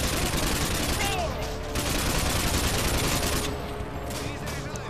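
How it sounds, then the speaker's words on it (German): Sustained automatic gunfire hammers at an enemy shield in Call of Duty Modern Warfare 2, a dense unbroken fusillade running the full length with only brief dips in intensity. "Ich schieße auf den Schild."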